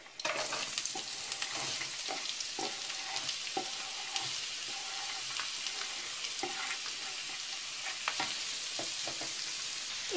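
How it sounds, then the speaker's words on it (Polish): A whole onion fries in hot oil in a pan, giving a steady close sizzle with occasional clicks and scrapes of stirring throughout. "Olej dobrze się rozgrzał, teraz wrzucam całą cebulę."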